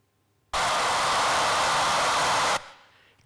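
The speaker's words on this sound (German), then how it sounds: "Da ist nämlich das Geräusch eines Föhns drauf." A recorded hair dryer played back blows a steady, loud, broadband rush for about two seconds, starting and stopping abruptly, with a quiet fading tail after it cuts off.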